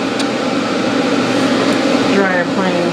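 A pet hair dryer blows steadily on a show poodle during grooming, a loud continuous whooshing hum with slight shifts in tone as the nozzle moves, while a person talks over it.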